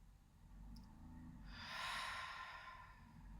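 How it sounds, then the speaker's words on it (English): A single slow, deep breath taken close by, a quiet inhale swelling into a long airy exhale, calm and unhurried with no talking. "I'm going to just take some deep inhales and exhales"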